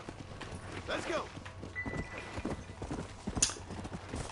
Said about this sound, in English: I'll take my horse